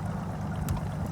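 A boat engine idles on Lake Okeechobee with a steady low rumble and the wash of water around the hull, close and unbroken.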